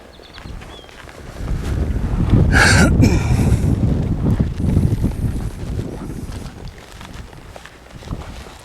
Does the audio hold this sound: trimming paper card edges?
no